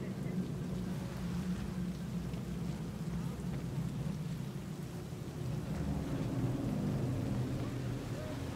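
Heavy pouring rain in the video game Cyberpunk 2077, a steady dense hiss with low rumbling underneath, continuous and loud throughout with no talking.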